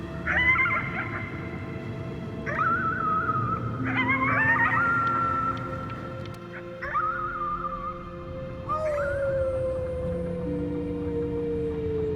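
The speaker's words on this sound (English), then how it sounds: "You howled at the moon at the top of your lungs." A wolf-like howl at the moon in the game Before Your Eyes, a series of wavering cries and yips that end in one long falling howl, fairly close and loud, with no talk.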